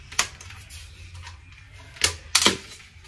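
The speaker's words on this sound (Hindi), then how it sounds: "ये बैटरी रिमूव कर दी हमने।" A laptop battery being removed gives a few sharp plastic clicks and knocks, scattered and close, with quiet between them.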